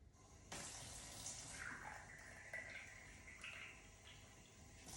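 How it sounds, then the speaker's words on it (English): Water running from a kitchen faucet into a sink while cooking, a faint, steady splashing stream that starts after a brief pause and continues without talk. "So I'm gonna open the faucet here."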